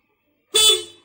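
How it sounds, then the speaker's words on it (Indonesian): A Honda Vario motorcycle horn sounds once in a single short, bright, loud honk after silence, fading quickly as it is tested during electrical repair work. "Kita cek untuk klakson dulu."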